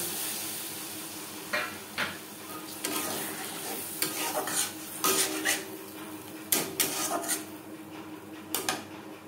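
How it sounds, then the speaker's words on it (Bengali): Spice paste with a splash of water being sautéed on low to medium flame for a fish and tomato curry, a constant sizzle broken by repeated loud scrapes and clanks of a spoon stirring in the pan. "লো টু মিডিয়াম ফ্লেমে 3-4 মিনিট মশলা বেশ ভালো করে কষিয়ে নেব।"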